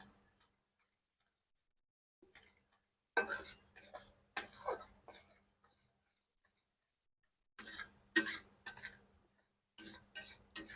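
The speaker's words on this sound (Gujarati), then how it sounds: "એને આપણે આવી રીતથી ધીમે ધીમે હલાવશું" A mohan thal mixture with added cream being slowly stirred in a pan, heard as close, clicking scrapes in short clustered bursts separated by quiet pauses.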